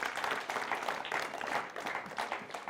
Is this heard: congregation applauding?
yes